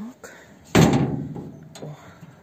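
A greenhouse door at a village garden is pulled shut with one loud close and slam, a brief clatter and rattle trailing off before a lighter knock, close up.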